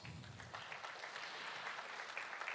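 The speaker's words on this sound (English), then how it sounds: "How about a round of applause for that?" Audience applause, steady and fairly faint, a continuous patter of many hands clapping at a distance.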